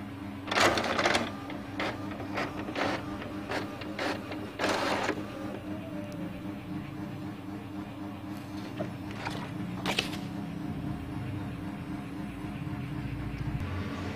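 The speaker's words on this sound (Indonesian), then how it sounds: "Dan inilah proses print sedang berjalan." An inkjet-style printer printing a wedding or event invitation, running with repeated whirring carriage passes, clicks and paper-feed thumps, loud and close, with no talk over it.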